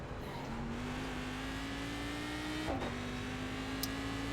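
Race car engine noise from the iRacing sim game hums steadily with a slowly rising pitch, a brief dip near the end, and a continuous dense rumble beneath; no talk.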